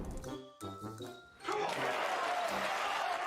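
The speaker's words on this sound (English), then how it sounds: "The crowd cheer." A snooker crowd breaks into sustained cheering and applause after a tense moment at the table, loud and broad, following a short stretch of commentary-like talk.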